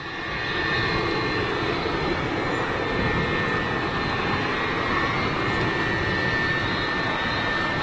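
A Virgin airliner on its takeoff run at Manchester Airport roars with a loud, steady jet engine rumble and high whine, sustained and unbroken throughout with no voices.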